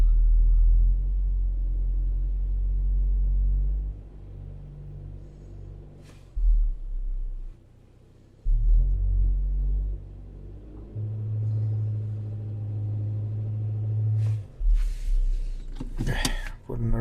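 A 2018 Hyundai Elantra with a misfire from an out-of-spec spark plug idles in drive under brake load, a deep steady low rumble that drops out briefly and returns, with clicks and someone talking near the end.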